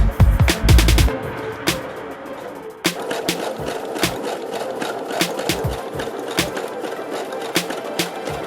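Sewing machine running a tight, small zigzag stitch with a twin needle, a rapid mechanical chatter with sharp needle clicks, loud at first, then a brief pause before it resumes at a steady pace.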